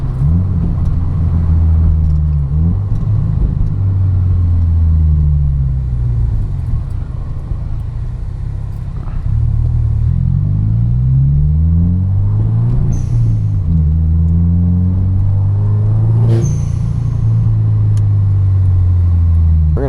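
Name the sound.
catless Subaru WRX engine revving with exhaust pops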